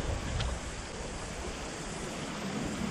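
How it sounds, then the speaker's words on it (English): Ocean surf breaks on a small beach along the Hump Ridge Track in Fiordland, New Zealand, a steady, loud wash of rushing water with a windy hiss and no pauses. "The waves are pretty loud."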